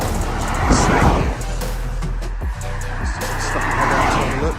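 A large lorry rumbles past on a road near a countryside walking route, followed by several faster vehicles rushing by in quick succession, loud and close, with broadband road noise swelling and fading and a voice speaking briefly over it.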